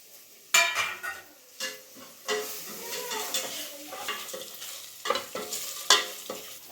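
Ground cumin and pepper paste going into a hot pan for a fish fry, sizzling sharply with repeated scraping stirs and clinks of a spoon against the pan, close and fairly quiet.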